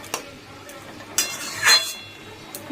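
Curry being stirred in a pan, a soft background sizzle with a few scattered scrapes and clinks of a utensil against the pan, fairly quiet and close.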